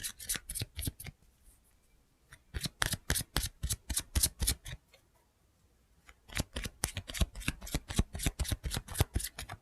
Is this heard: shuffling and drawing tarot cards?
yes